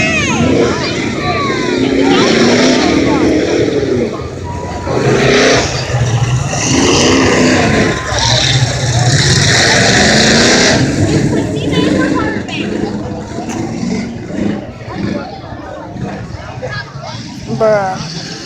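Rear-wheel-drive cars racing a figure 8 track, engines revving and roaring loudly up close and fading as they pass, with a voice talking over the noise throughout.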